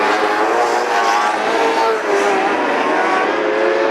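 Compact speedcars race around the dirt oval at Wangaratta Speedway in an Australian title A-main, engines droning steadily and loudly for the whole stretch with a slight dip midway.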